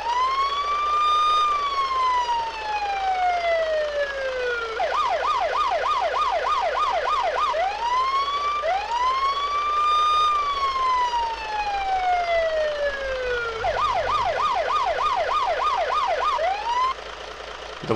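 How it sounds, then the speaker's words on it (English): A custom police MRAP siren in Unturned cycles loudly and alone, a long rising-and-falling wail followed by a rapid yelping warble, repeating twice in a steady pattern. "The siren has a custom siren effect,"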